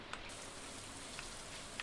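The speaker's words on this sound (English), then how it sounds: "it's raining." Rain falls in the Stardew Valley video game as a steady, soft hiss with a few faint droplet ticks, quiet and unbroken ambience with no talking.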